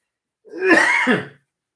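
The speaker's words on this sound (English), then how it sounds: "I'm supposed to cough into this, but I'm at home." One short, raspy cough or throat-clear at home, blamed on reflux, sounds close up, alone against silence.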